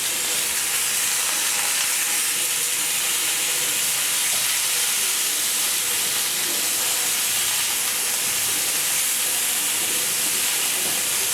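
Tomatoes cooking down for a barbecue-style chutney give off a steady, loud, unbroken hiss of steam and sizzle, with no talking.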